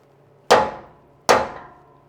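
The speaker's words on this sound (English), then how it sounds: "Give that tap up in there." Hammer tapping metal on a 1937 Chevy hotrod: two sharp, close strikes, the first at about half a second and the second near 1.3 seconds, each ringing briefly before fading, with nothing else heard.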